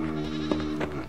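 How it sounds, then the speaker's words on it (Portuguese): A sheep in the video game Survivalcraft 2 gives one sustained, wavering bleat, steady and fairly loud, with a couple of faint taps underneath. "Tem as ovelhinhas aqui, né, ó."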